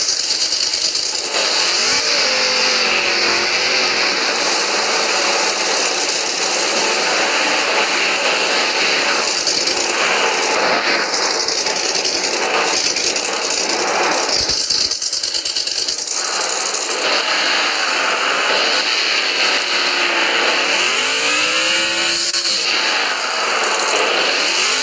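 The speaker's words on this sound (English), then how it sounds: "Here, I'll let you guys hear the engine." A barn find car's engine revs in the Offroad Outlaws video game, a loud, steady mechanical drone that rises and falls in pitch several times, with no voices over it.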